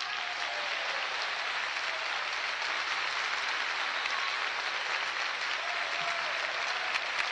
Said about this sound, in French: c'est pour ça qu'ils t'applaudissent.